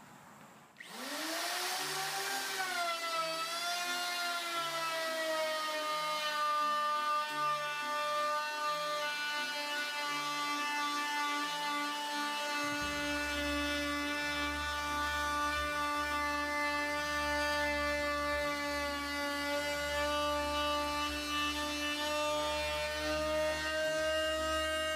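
A router with a bearing-guided bit cuts a 45-degree bevel along an MDF edge while building an arcade cabinet base. Its loud, steady motor whine rises as it spins up, then holds for the full stretch with no talking.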